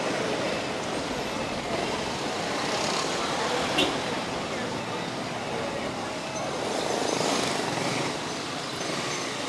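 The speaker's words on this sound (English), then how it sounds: "Yeah, traffic is crazy right now." Dense traffic on McArthur Highway in Mabalacat, Pampanga, a continuous low wash of road noise from buses, cars and trucks, fairly distant and even, with slight swells as vehicles pass.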